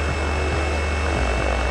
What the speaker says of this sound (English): when a helicopter gets down into ground effect, especially one with that size of a rotor, it's going to kind of float when you get towards the ground